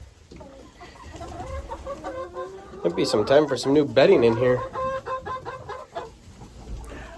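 Hens cluck and murmur in a pen, with a burst of louder squawking clucks in the middle, close by, while someone talks over them.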